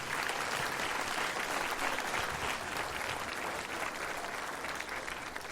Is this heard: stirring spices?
no